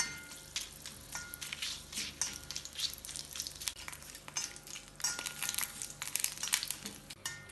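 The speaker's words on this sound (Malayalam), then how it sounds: "4-5 ഏലക്ക, 4-5 ഗ്രാമ്പൂ, 1 ബേ ലീഫ്, 1 സ്റ്റാർ, ഇതെല്ലാം ചേർത്ത് ഒന്ന് ഇളക്കി ചൂടാക്കാം" Cardamom pods, cloves, a bay leaf and star anise stirred in a hot pan for shahi paneer, giving soft crinkly scraping and faint sizzling in uneven bursts, quiet and close with no talk.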